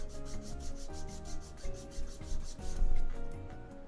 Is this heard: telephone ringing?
no